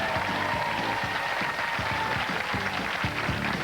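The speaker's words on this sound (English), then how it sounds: "Give him a round of applause, folks." An audience applauds steadily, a dense wash of clapping that holds at an even level from start to finish.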